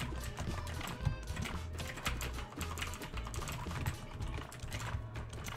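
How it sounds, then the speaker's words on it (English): Rapid, continuous clattering of keys as two players each type on their own computer keyboard during a speedrun of the cooking game Overcooked 2, dense irregular taps heard close up. "we each have our own individual keyboard."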